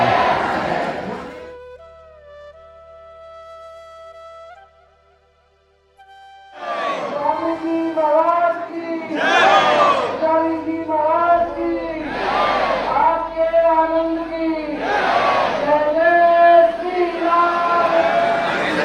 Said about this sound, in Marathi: एवढी सगळी गर्दी आहे.